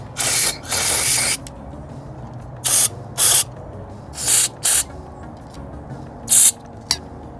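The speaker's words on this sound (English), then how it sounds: "All you gotta do is just spray some in there," Cleaner sprayed into a car engine bay in several sharp aerosol bursts, two longer ones first and then pairs of short hisses, close and loud with no talking.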